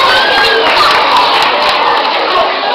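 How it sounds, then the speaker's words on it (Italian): Audience applause at an Italian Christmas award ceremony, a steady, dense wash of clapping at close range without pauses. "Bel applauso, forza, complimenti."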